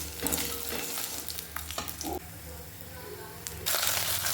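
Tangra fish sizzle and crackle in hot oil in a home kitchen, a steady loud frying hiss with bursts of spatter and stirring, no talk.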